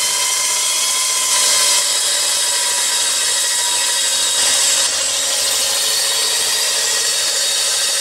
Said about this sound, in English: we're just going to cut out a couple of these coupons here and some backing strips